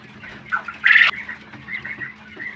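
Ten-day-old quail chicks, some of them Texas quail, give a short burst of high chirping peeps, with one louder squawk-like call near the middle and softer calls scattered before and after.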